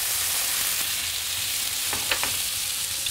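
Lough Neagh pollan fish frying in a pan, a steady close hiss and sizzle with a few brief crackles near the end.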